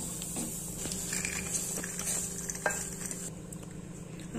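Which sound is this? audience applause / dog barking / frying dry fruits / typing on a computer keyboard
frying dry fruits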